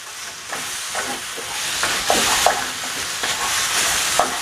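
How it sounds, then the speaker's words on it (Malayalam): Food being stirred in a pan on the stove: a continuous soft hiss with repeated scraping strokes of a spoon, close and moderately loud, with no talking. "അപ്പോൾ നമ്മൾ ഇതെല്ലാം ഇട്ട് കഴിഞ്ഞിട്ട് നന്നായിട്ട് ഇളക്കി കൊടുക്കുക."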